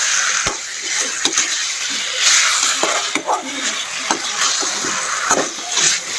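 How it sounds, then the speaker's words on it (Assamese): Local chicken meat fries in a hot pan, sizzling steadily while a spoon stirs it, scraping and tapping the metal at an irregular pace; the sound is close and loud, with no talking. "এইখিনি আমি একদম পূৰা পানী ওলাই পিনে আৰু শুকাই যোৱালৈকে ভাজি থাকিম"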